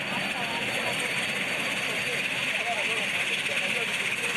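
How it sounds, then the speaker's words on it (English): Kenya Air Force military aircraft engines start up and drone and whine steadily at close range, a continuous mechanical roar with no break. "it's out to the field and it's time to start up the engines"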